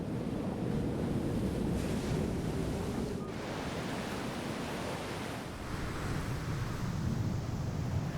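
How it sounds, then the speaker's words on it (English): Ocean waves wash onto a sandy beach in the game Foolish Mortals, a continuous rolling surf roar with breezy hiss and gentle swells in intensity, no voices. "A bottle lay half buried in the sand, soon to be covered over by the swash of the waves."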